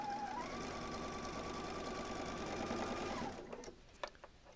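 A sewing machine stitches a quilt seam, running at a steady, loud, even whir for about three seconds, then stopping, followed by a few faint clicks and handling sounds.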